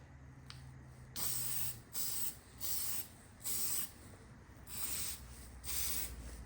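Coating is sprayed onto a car headlight in a series of about six short, close aerosol hisses of roughly half a second each, separated by brief quiet gaps.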